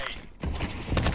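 Gunfire in a video game bursts through a dense, busy mix, with a rapid volley of shots swelling louder toward the end of the short stretch.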